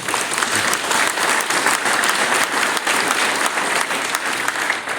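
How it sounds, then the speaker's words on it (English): An audience at a Cameron County judge's swearing-in ceremony breaks into sustained, full applause, a dense, even wash of many hands clapping close by for several seconds. "So please give them a big, big round of applause."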